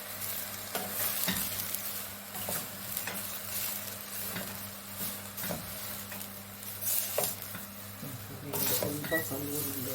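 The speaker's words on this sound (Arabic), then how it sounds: "أقلب شوي." Rice being stirred in a pot with onions and carrots for chicken mandi, a soft steady scraping and shuffling with light sizzling underneath and occasional clinks of the utensil, close and moderate in level.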